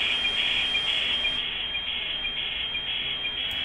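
An HF marine weather fax radio signal from Boston on 9110, heard through an audio amplifier as a steady, faint, high-pitched tone with a faint regular pulsing beneath, alone with no voices.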